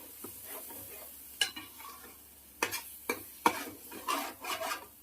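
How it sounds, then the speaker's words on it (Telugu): Fish curry with ginger garlic paste sizzles in oil in a pan, with a soft frying hiss broken by irregular scraping stirs of a spoon, close and alone. "ఇక్కడ ఫిష్ ఏమవుతుంది, అల్లం వెల్లుల్లి పేస్ట్ కూడా మంచిగా వేగిపోయింది."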